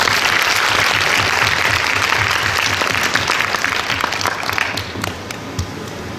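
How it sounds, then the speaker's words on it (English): An audience at a keynote lecture bursts into loud, dense applause that holds steady and then thins into scattered claps near the end. "another big round of applause to our speaker today"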